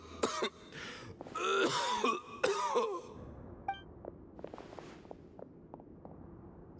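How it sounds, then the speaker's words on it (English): A character in Genshin Impact coughs and clears his throat in a few harsh, rasping bursts up close, then quieter footsteps and faint shuffling sounds follow in a calm scene. "Why is he coughing so much?"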